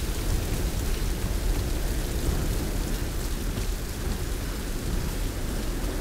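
Steady, heavy rain in the Tomb Raider video game, a constant broadband downpour hiss with a low rumble like distant thunder beneath it, continuous and even throughout, with no voices.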